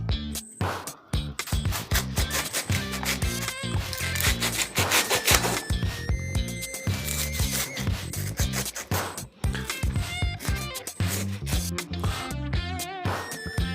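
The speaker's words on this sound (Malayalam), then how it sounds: "പൈനാപ്പിൾ കട്ട് ചെയ്ത് തുടങ്ങാം." A knife cutting through a pineapple, heard as continuous, close, rough sawing and crunching strokes that repeat steadily throughout with no talk.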